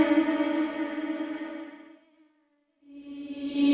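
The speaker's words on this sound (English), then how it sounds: "So you get that reverse reverb, right?" A sustained, reverb-drenched sampled vocal tone from The Doors with heavy effects fades into silence, then a swelling reverse-reverb wash rises back in and grows louder.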